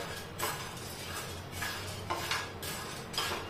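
Broken nutmeg and dry ginger being dry-roasted over low heat in a pan, stirred with a spoon: faint repeated scraping and clinking strokes at a steady pace over a soft background hiss.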